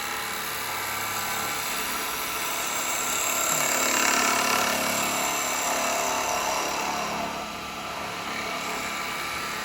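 A woodturning gouge cuts a cherry almond natural-edge bowl spinning on a lathe, giving a steady close hiss and whir that swells slightly midway.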